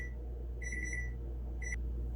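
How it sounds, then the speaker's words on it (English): A kitchen timer goes off while surf and turf is being cooked, giving short high electronic beeps: one brief chirp, a longer rapid run of beeps, then another short burst over a low kitchen hum. "That was my alarm"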